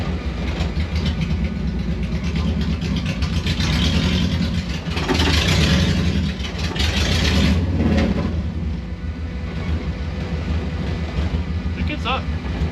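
A 1974 VW Bus running a swapped-in Subaru engine rumbles loudly and steadily, rising in two brief revving swells over a constant low drone, with people talking over it.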